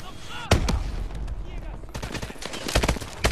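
Rapid bursts of automatic gunfire and single loud shots from the Call of Duty Advanced Warfare video game, close and punchy, with excited voices talking over the firing.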